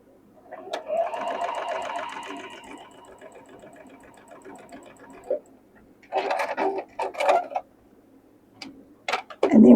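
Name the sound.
sewing machine sewing quilt block triangles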